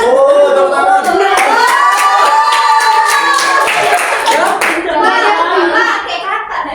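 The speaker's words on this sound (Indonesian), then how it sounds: "Oh, tepuk tangan." A group of people claps hands during a playful session, short bursts of clapping mixed with loud, close voices and children talking over them.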